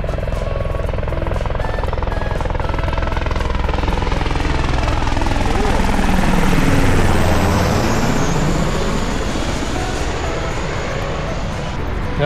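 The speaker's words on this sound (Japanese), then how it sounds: "あそこにヘリですね。" Helicopter at the Air Festa Hamamatsu 2024 air show, heard as a steady, loud rotor and engine drone that swells slightly mid-way while people talk nearby in the crowd.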